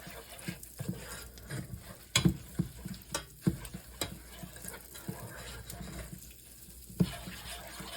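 A spoon stirring African peanut chicken stew in a pot, irregular close scraping and clacking strokes with sharp knocks against the pot over a low simmering hiss, no voices.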